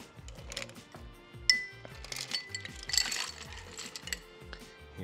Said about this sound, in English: And we'll add some ice cubes.